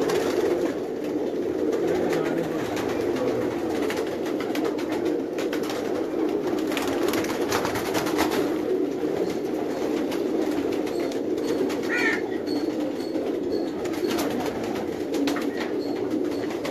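Pigeons coo on a Karachi rooftop loft, low soft murmuring calls blending into a steady dense background, with faint room noise around them.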